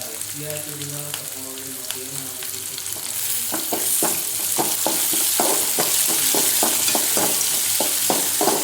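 Finely chopped onions hit hot tempering oil and sizzle loudly, with rhythmic clicks of a spoon stirring the pan after a brief tonal sound at the start.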